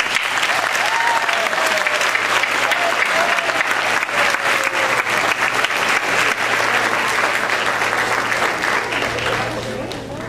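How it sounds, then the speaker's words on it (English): A crowd at an 8th grade graduation ceremony applauds for the graduates' parents, a loud, dense, steady clapping that fills the hall and holds for the whole stretch with no letup. "join me in a round of applause for your parents"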